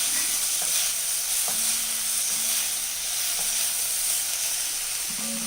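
Half-softened onions fry in a pan with a loud, steady sizzle and hiss, while a few scraping pushes of a spatula shove them aside, with no voices.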